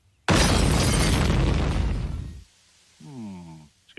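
A loud cartoon fireworks blast erupts indoors in a room, a broad roaring burst that fades over two seconds before a short tonal cartoon voice or squeal follows.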